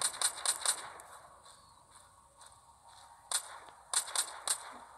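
Gunshots in The Walking Zombie 2: Zombie Shooter, a mobile zombie shooting game, cracking out as a quick burst of three or four sharp reports, a pause, then single and paired shots, with light game ambience between.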